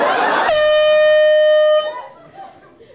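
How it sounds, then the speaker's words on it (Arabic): A car horn blares one long, loud, steady blast that cuts in over crowd chatter and laughter at a Lebanese comedy show. The horn then stops abruptly, leaving a quieter murmur. "بالعجقه بيزمر، بالعرس بيزمر"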